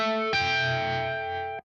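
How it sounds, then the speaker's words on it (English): Electric guitar through a Mesa amp with chorus added, a held note then a struck distorted chord that shimmers and sustains before cutting off abruptly, close with no voices. "Then I'm adding in some chorus"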